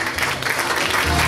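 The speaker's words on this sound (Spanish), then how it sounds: "¡El aplauso!" Applause from an awards-ceremony audience at the Hilton hotel in Buenos Aires, a dense steady patter of clapping filling the room for a brief moment with no voice over it.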